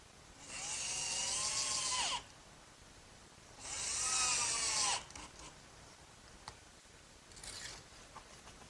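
Power drill driving screws into the wooden feet of a workbench, two whining bursts of about a second and a half each that wind down at the end, close and fairly quiet with no talk.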